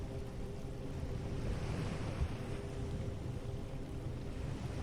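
Steady ocean surf washes in a continuous, even roar, with no voices and a low rumbling body throughout.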